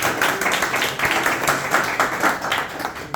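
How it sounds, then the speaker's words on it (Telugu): A congregation at a church service claps together, a steady, dense burst of many hands in a hall lasting the whole moment. "అందరూ కూడా గట్టిగా చప్పట్లు కొట్టి దేవుని ఘనపరుద్దాం."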